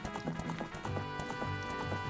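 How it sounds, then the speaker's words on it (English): Steady clip-clop of horse hooves trotting in the beta build of the video game Zelda: Ocarina of Time, set around Lake Hylia, with rhythmic hoofbeats over a layer of game music. "I can hear another horse around, but I can't see it."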